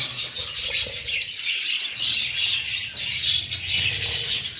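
Budgerigars in an aviary squawk and chirp continuously, a busy overlapping chatter of shrill calls up close with no talk.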